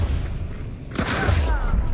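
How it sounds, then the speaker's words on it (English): A regen shot fired in a first-person shooter video game, a single sharp boom partway through with a bright hiss trailing after it, over low background rumble. "Go with my regen shot here."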